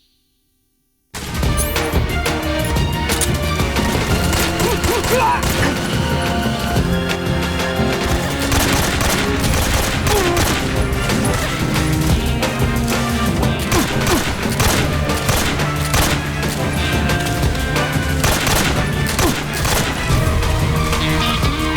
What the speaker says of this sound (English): Shotgun, because why not?